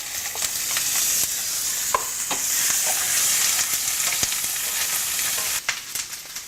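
Garlic frying in a pan for chicken pilaf, giving a steady close hiss and sizzle with scattered crackles and light stirring taps throughout, no talking.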